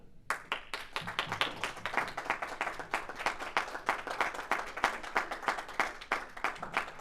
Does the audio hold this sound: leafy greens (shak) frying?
no